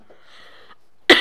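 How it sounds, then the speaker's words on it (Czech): A person who is feeling unwell gives one short, sharp cough near the end. It comes after a faint, quiet stretch and sounds close and loud. "Omluvte mi za mé kašlání."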